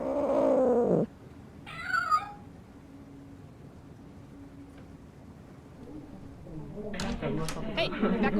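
A cat in a Nancy Drew video game gives a short meow, with a voice talking just before it and more game sounds rising toward the end.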